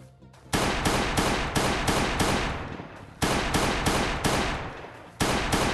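Pistol gunfire in Last Day on Earth rings out as a series of loud, sharp shots in a fairly regular rhythm, each trailing into a short decay, close and dominant with no talking.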